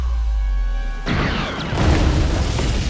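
A sudden loud explosion of the Death Star bursts in after a low rumbling hum, followed by a sustained roaring, crackling blast that swells again near the end.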